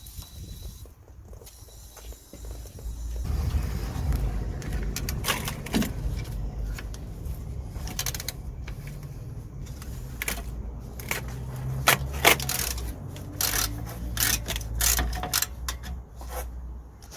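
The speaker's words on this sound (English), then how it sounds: "we're gonna lock the bolt with the 13mm spanner, and then we're gonna undo the 16mm nut." A spanner works loose a 16mm nut on the rear coil spring bottom mount of a Peugeot 3008/5008, with close, irregular metallic clicks, scrapes and creaks coming in bursts over a low background hum.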